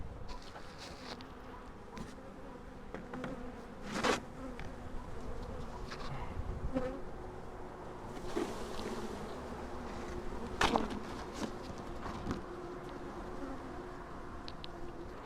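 Honey bees from a colony living in a chimney buzz steadily and densely throughout, a close, continuous insect drone with occasional louder passes near the microphone.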